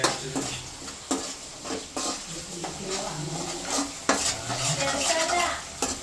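Green chilies fry in a pan with a soft sizzle while a utensil scrapes and stirs, giving repeated sharp metallic knocks against the pan, close up and moderately loud.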